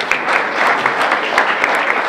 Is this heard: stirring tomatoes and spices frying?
no